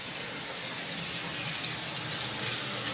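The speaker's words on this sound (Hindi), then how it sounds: "यहाँ पर पानी डाल दिया" Water pours steadily from a jug onto a floor for washing, a close, unbroken gushing splash with no pauses.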